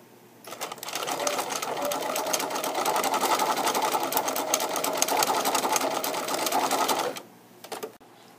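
A sewing machine stitches a mitten in one steady burst of fast, even needle clatter lasting about six seconds, close and loud, stopping abruptly with a brief click afterward.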